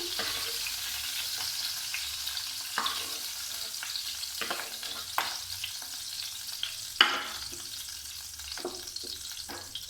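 Pointed gourd fries in mustard oil in a pan, a low continuous sizzle interrupted by scraping stirs and clinks of a utensil, fairly quiet and close, with no talking.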